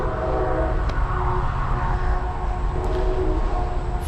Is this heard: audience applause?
no